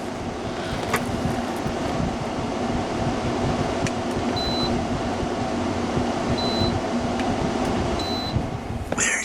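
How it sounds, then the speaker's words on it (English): A home air conditioner runs with a steady, loud broadband hum and whoosh, with faint periodic beeps and a few soft clicks, no talking. "Here comes the air conditioner. I forgot to turn it off."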